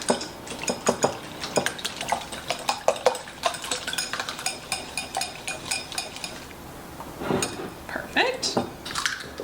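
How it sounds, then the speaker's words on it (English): Eggs being whisked in a bowl make rapid, rhythmic metallic clinks and taps against the bowl. The strokes run in quick bursts with a short pause before a final few strokes, close and clear. "I'm gonna give this a quick whisk before we add the other ingredients"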